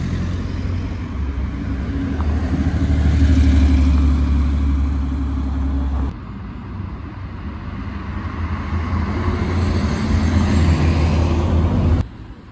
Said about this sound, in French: On a une 991 phase 2 Targa qui arrive, je vais la filmer